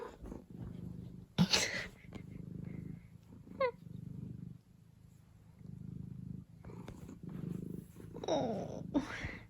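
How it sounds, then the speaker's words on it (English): A cat purring loudly and close up, a low rhythmic rumble running through most of the moment, with brief bursts of a voice over it. "His purr is so loud."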